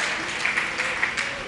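An audience at a Jain festival, Lord Adinath's birth celebration and chariot procession in Bhatapara, Chhattisgarh, gives a brief, steady round of applause, heard as a dense wash of clapping.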